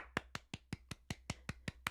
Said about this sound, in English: When I clap it, it sounds very simplistic.